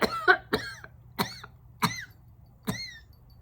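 A person coughs and chokes in five harsh, separate bursts spaced roughly evenly, close and fairly loud, with short raspy tails after each.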